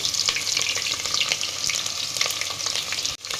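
Onion frying in hot oil where mustard seeds have been crackling, made for tomato bath: a dense, loud crackling sizzle close by with quick stirring scrapes, ending in a sudden brief drop, no voices.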